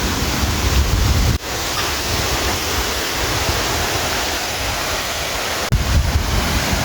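A waterfall on a cat farm roars as a steady, dense rush of falling water, loud and continuous with no talking over it.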